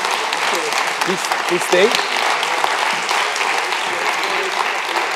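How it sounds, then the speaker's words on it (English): An audience at a science lecture claps steadily and warmly throughout, while a voice briefly speaks over the applause. "I just propose a big round of applause"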